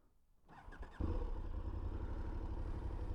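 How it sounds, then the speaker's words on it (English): A KTM 1290 Super Adventure S motorcycle cranking briefly with a clattery starter whirr, then catching and settling into a loud, close, steady idle rumble. "So let's start the bike."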